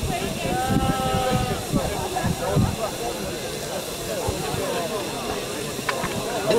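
A Furness Railway steam locomotive, the Furness Twenty, lets off a continuous broad hiss of steam while people talk in the background.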